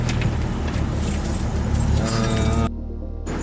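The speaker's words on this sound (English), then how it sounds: "Just gotta sort through like 50 keys." A large bunch of about fifty keys jangles and clinks continuously as it is sorted through, close and loud over a running car, cutting off abruptly near the end.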